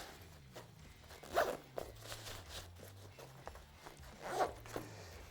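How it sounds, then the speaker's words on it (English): A zipper on a pocket of a Fly Racing off-road waist tool pack is pulled closed in two quick, close strokes, with faint handling and rustling of the fabric in between. "So zip that back up."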